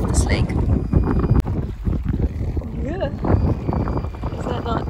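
Steady wind gusting across a lake during an inflatable boat trip on a cloudy day, a constant broadband rush against the microphone, with a voice talking over it now and then.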